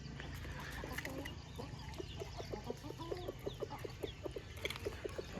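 H'mong chickens cluck inside a coop, giving a run of short, rhythmic clucks that are close and moderately loud over a low background rumble, with a few other fowl calling faintly around them.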